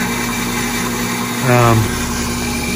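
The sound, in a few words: water pump running for farm sprinklers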